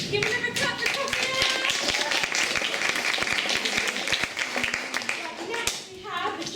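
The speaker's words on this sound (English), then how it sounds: "Give another clap for Coffee." A variety show audience claps for a performer with lively, fairly loud applause, individual claps standing out, while voices murmur underneath.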